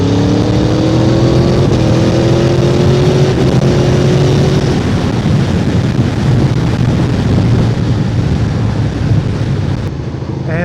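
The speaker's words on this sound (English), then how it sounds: "I'm hoping you guys can hear that exhaust." Loud, close exhaust roar from an Aprilia Tuono V4 motorcycle with its exhaust flap deleted, a rising engine note climbing through the gears before settling into a dense, rumbling drone.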